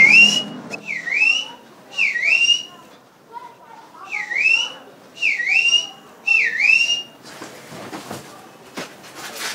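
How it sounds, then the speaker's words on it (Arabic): A man whistles a repeated two-note call in a dusty old neighbourhood lane, five clear rising-falling phrases in a steady rhythm, fairly close and loud, ending in scuffling noise. "مين الافندي اللي بيصفر لها ده؟"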